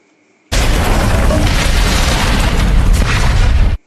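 A loud film explosion bursts in suddenly after a moment of quiet, then a sustained roaring blast that cuts off abruptly.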